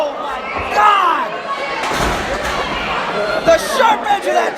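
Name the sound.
chair hitting a wrestler's midsection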